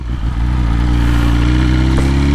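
A motorcycle engine runs loud and close on an Easter ride, a steady throaty drone that holds a constant pitch with a faint rise in revs.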